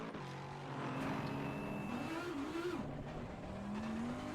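A race car engine in Assetto Corsa Competizione drones and revs, rising and falling in pitch with faint tire noise, fairly quiet and steady, with no one speaking.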